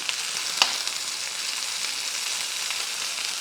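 Beef pieces for a pot roast browning in a pan, a loud, steady close sizzle with a single small clink near the start.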